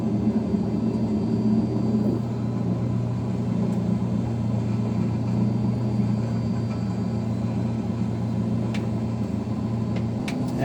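In Microsoft Flight Simulator, an aircraft taxis off the runway with a steady, loud engine drone and low rumble, continuous and unchanging, a few faint clicks in the background.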